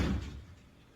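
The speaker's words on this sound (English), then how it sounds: "Closed door." A door shut with a single dull heavy thud that fades out quickly, close by and alone without talk.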